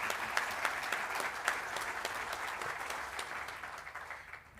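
Applause from the audience at a Western Cape education awards ceremony, a steady dense patter of many hands clapping that holds throughout and tapers off slightly toward the end.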